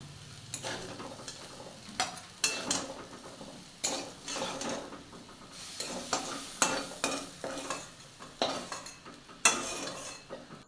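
Bitter gourd frying in oil in a pan, a soft steady sizzle broken by repeated scraping strokes of a spatula against the pan, close and fairly quiet, with no talk.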